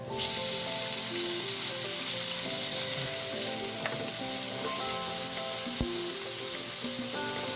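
Bacon sizzles steadily in olive oil in a hot pan, a loud continuous crackle with occasional sharper pops, heard alone without voices.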